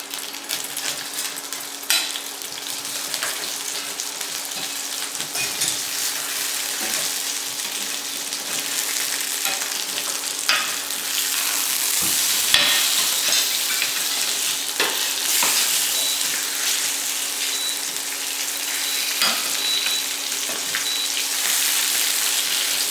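Food frying in oil in a pot during a home cooking lesson, a steady dense crackling sizzle with scattered sharper pops, running continuously throughout with no talking.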